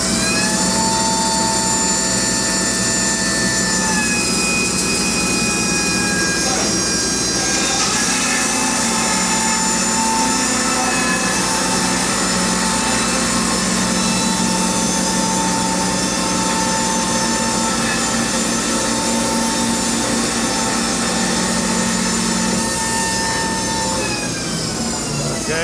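A sawmill blade runs through a big log while cutting a board, a loud continuous high whining roar with sustained tonal bands that holds for the whole stretch, close and dominant with no talk.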